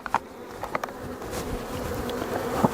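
Honey bees buzz steadily around an Apimaye NUC hive holding a settled cutout colony, with several individual bees droning close by over a continuous swarm hum.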